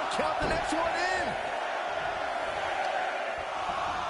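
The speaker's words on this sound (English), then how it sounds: "Listen to this crowd." A large crowd roars loudly and steadily in a wrestling video game on PS5, with a few sharp whoops and shouts rising over the dense cheering.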